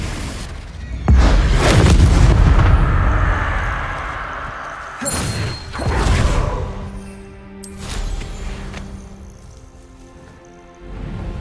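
A Confringo blasting spell explodes in the Hogwarts Legacy video game as a loud, heavy boom with a long rumbling tail. Further softer impacts and crackles follow, with no talk.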